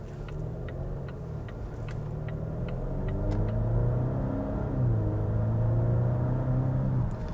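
Volvo V60 Cross Country B5 mild hybrid with Polestar tune driving on the road, a steady low cabin rumble with engine drone rising and settling, a faint rhythmic ticking like a turn signal early on.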